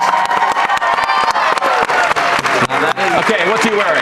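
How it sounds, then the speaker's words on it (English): Audience at a BYU basketball event applauds and cheers for staff member Tyson Jex, a dense, steady wash of clapping and crowd noise with shouts mixed in, loud and close throughout. "That is a well-deserved clap because Tyson seriously does so much behind the scenes"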